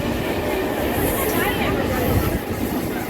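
Inside a moving passenger train, a loud, steady rumble of wheels and carriage noise fills the whole stretch without a break.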